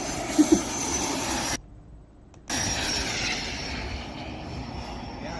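A fixed-wing airplane's engine roars during takeoff, a loud steady drone that drops out briefly for about a second before the roar resumes at full strength.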